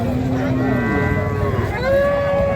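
A cow or calf moos loudly and close at a rural Bangladeshi cattle market, two drawn-out lowing calls in quick succession over a murmur of crowd noise.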